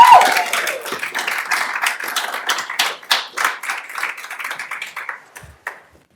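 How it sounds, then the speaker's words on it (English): A small audience at a medical talk event in Troy, New York claps for a speaker, sharp individual claps close by that thin out and fade to scattered final hits and silence. "if you can give Abby a warm, gigantic round of raucous applause"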